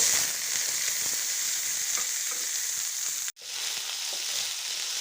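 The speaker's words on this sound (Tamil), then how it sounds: "இது சும்மா தான் ஃப்ரை பண்ண போகிறோம்" Shallots, green chilies and curry leaves fry in a pan with a loud, continuous hiss and crackle. The sizzle drops out briefly near the end, with no talk.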